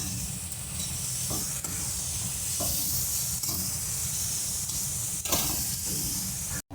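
Onions and a green chilli sizzling in a hot kadai, a steady, loud, dense hiss that continues without a break, with no voices.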